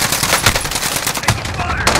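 Rapid gunfire in Call of Duty: Modern Warfare, dense bursts of automatic shots crackling loudly and continuously through the whole moment, with some speech mixed in.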